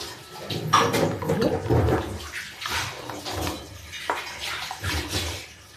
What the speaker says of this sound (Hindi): थोड़ा सा पानी और डालेंगे।